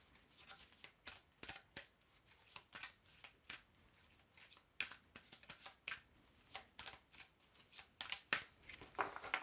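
Tarot cards being shuffled and drawn: a rapid, papery riffling and flicking of cards up close, soft and steady with no talking.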